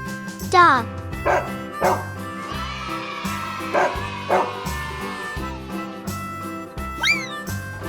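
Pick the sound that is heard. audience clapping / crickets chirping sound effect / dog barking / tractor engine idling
dog barking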